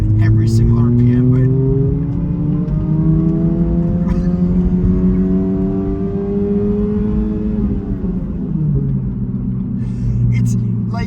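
Honda Civic FL5 Type R with an aftermarket exhaust drones steadily and loudly as revs rise and fall in smooth sweeps, with a deep rumbling tone throughout and a voice speaking over it.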